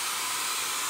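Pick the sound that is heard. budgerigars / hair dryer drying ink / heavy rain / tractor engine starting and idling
hair dryer drying ink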